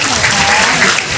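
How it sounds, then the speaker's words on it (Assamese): A short burst of dense, even clapping from a crowd at a college freshers' welcome ceremony, loud and close, with no break. "সকলোৰ পৰা এটা ডাঙৰ হাত চাপৰি"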